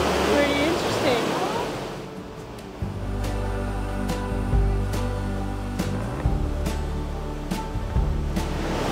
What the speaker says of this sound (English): This is an incredible waterfall. Yes, it's called Lower Reed Falls.